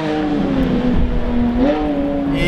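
A Porsche 718 GT4 fitted with an Akrapovic rear silencer idles loudly with a strong tonal exhaust drone, dipping and then rising in a short rev blip near the middle, close and alone.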